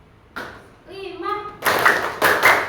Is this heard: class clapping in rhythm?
yes